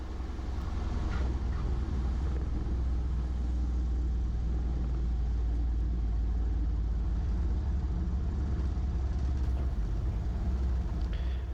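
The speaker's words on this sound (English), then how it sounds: "Back to the barn in the mighty Luscombe with a wheel landing demo" A Luscombe light aircraft's engine drones steadily and close at low power through a wheel landing, the main wheels pinned to the runway with the tail held off. A continuous rumble with wind noise runs throughout.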